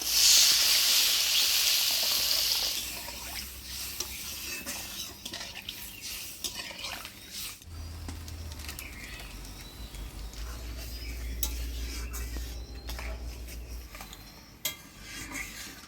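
Cashew paste and sugar are stirred into a Bengali vegetarian banana-flower kofta curry in a pan. A loud sizzling hiss fills the first few seconds, then it settles into quieter scraping and stirring over a low rumble, with no talking.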